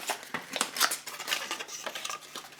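A candle's wooden lid being opened, with a run of small dry clicks, taps and scrapes, close and fairly quiet, uneven in rhythm.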